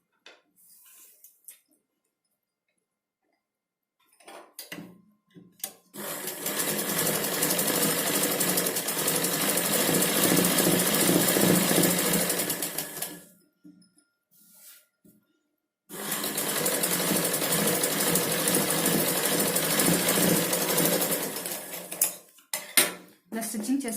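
A sewing machine stitches a blouse in two long, loud bursts of rapid mechanical whirring and clatter. Short quiet gaps with small handling clicks separate them.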